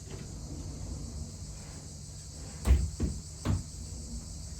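A wardrobe drawer slides open and shut indoors in a few quick, close scrapes and knocks under a steady background hum, with no talking.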